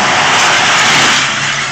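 A dump truck's engine roars loud and close as the gas is punched, a steady heavy rumble with no voices over it.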